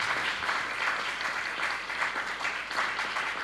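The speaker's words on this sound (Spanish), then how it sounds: "Un gran aplauso" An audience at a theater gives a big round of applause for George, a steady even wash of many hands clapping at moderate volume with no voices standing out.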